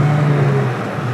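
A Honda Amaze i-VTEC car pulls in second gear, its engine giving a steady, fairly loud droning hum heard from inside the cabin.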